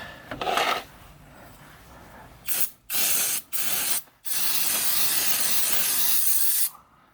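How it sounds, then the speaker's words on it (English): Several short bursts of aerosol brake cleaner hiss close by while servicing a 2007 Toyota Prius transmission, then one long sustained spray lasting a few seconds before cutting off. "Spray that down with some brake clean"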